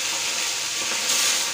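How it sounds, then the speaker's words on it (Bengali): Hilsa fish frying in hot oil in a home kitchen, a steady bright sizzle and hiss that swells briefly near the end, close and fairly loud with no talking. "তো মাছগুলো দেখো দিয়ে দিয়েছি তেলে"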